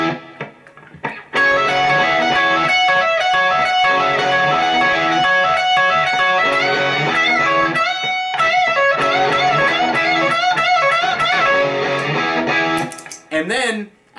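Electric guitar with distortion and effects plays a riff over a backing loop, dense and loud and continuous for about eleven seconds before cutting off.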